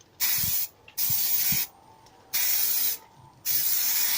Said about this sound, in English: ready to spray some lacquer on